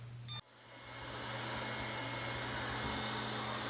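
A Lefant M200 robotic vacuum cleaner starts up after a short click and settles into a steady, moderately loud motor whir with a constant hum, running alone without voices.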